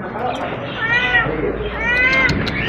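An angry cat at a Saudi Arabian animal and bird market lets out two drawn-out, wavering meows close by, with someone talking over the market bustle.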